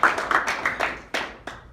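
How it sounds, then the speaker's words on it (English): Scattered, sparse clapping from a small audience at an IT security seminar, several distinct claps that thin out and stop within two seconds, with no voices. "One more round of applause."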